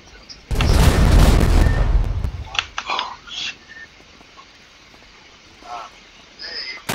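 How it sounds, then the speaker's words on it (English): A big explosion in FiveM, the GTA V roleplay mod, during a police tactical patrol: a loud, long booming blast, then smaller bangs and pops trailing off, with radio chatter and voices around it. "Multiple explosions here."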